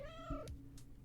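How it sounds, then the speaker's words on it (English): A pet cat meows nearby, one rising-and-falling drawn-out cry followed by a few soft scuffs, faint and alone in a quiet room. "my cat is quite the noisy one"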